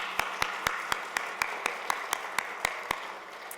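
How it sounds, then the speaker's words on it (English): At a women-in-cybersecurity conference opening, a single steady pair of hands claps in a regular rhythm, about a dozen distinct claps over a soft room murmur rather than a full audience ovation. "Let's give them another round of applause."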